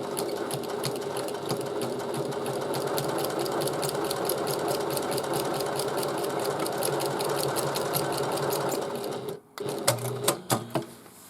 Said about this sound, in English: We're going to stitch at a 3/8 of an inch seam allowance the whole time.